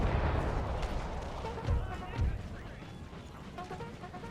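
Distant musket volleys and artillery booms from an Empire Total War battle roll in as muffled thuds and crackles, with a couple of heavier blasts under continuous talk.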